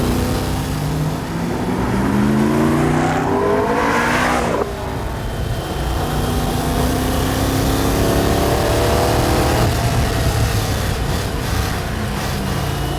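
Lola T70 replica car under full throttle, engine note climbing loudly through gears with rising whine, a shift break near four and a half seconds, then pulling hard again, close and continuous.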